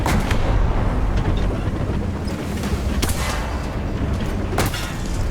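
Tank cannon fire from a Tiger H1 and M4A3E2 Jumbo battle in War Thunder, heard as a dense rumbling barrage with several sharp shell blasts standing out, loud and continuous throughout.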